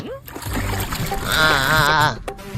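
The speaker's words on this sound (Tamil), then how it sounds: "ஏய் தண்ணி ஊத்திட்டே" Water poured and splashed onto a face, giving short wet splashes and dribbles close by while a person's voice rises and wavers over the top.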